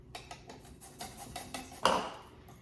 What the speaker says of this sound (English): using, as you can see, a zester grater like this does short work of mincing garlic